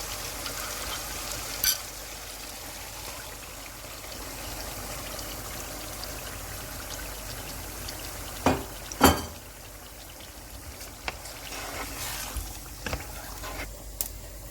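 Tandoori chicken karahi frying after yogurt thinned with water is stirred in, a steady low sizzle and bubbling with a few louder clanks or stirring scrapes near the middle and scattered small pops toward the end.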